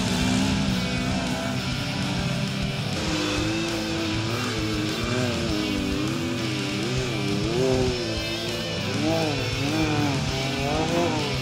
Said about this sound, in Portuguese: Os UTVs com seus motores fortes também se dão bem por aqui.